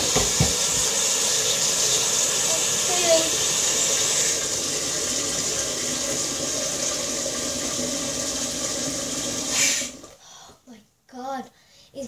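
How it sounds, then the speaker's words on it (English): Cold water running from a tap into a pan as an ice bucket is prepared, a steady close rushing stream that stops abruptly near the end, followed by brief speech. "I'm getting my water in this pan,"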